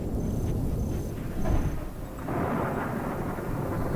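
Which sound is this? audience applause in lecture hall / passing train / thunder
thunder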